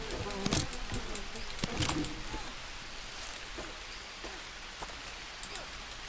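Steady rain hisses in the survival video game Green Hell, with scattered drops and clicks over a constant wash and a few louder taps near the start, while players talk faintly over it.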